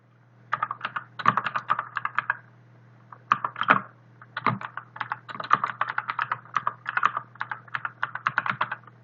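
Rapid bursts of computer keyboard typing on an Ubuntu machine, close and clear, in uneven clusters of keystrokes with short pauses between them over a steady low hum.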